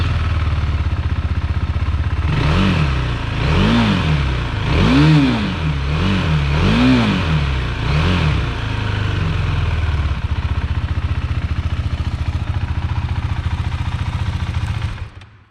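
A KTM Duke 390 motorcycle engine close by gives a series of quick throttle blips rising and falling over a steady idle, then settles into a smooth idle before cutting off.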